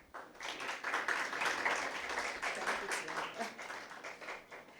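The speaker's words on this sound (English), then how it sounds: "Another round of applause for T. Iker Edwards, Team Clear Hall Secondary." An audience at a secondary-school impromptu speaking competition final applauds after a student's presentation, a steady, moderately loud round of clapping that swells and holds, with faint voices underneath.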